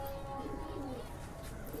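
Pigeons of the Kanta Kash Kaldum breed softly cooing in a loft, a low murmuring coo running faintly through the background across the short stretch.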